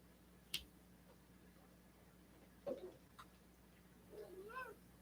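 A cat gives a faint, soft meow, then another brief mewing call a moment later, in an otherwise quiet room with a sharp tick early on.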